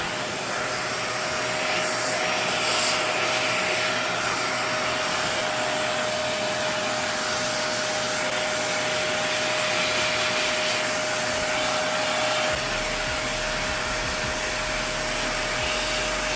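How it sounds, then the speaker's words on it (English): A vacuum cleaner with an attachment sucks up dust in a living room, a loud steady roar with a constant whine that runs without a break throughout. "So I like to do this attachment and go around in the circle and vacuum that dust up"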